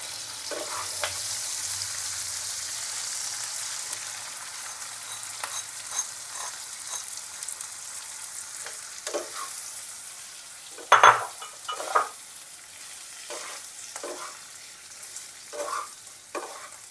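Semolina stirred into vegetables frying in a pan, a steady sizzle with intermittent scraping strokes of a spoon, a few sharper clinks near the end; no talking.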